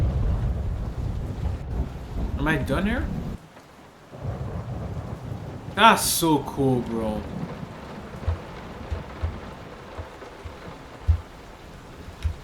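Thunderstorm rain in the horror video game Layers of Fear: constant rainfall with rolling thunder rumbles, briefly cutting out midway before resuming. Someone talks over it at times.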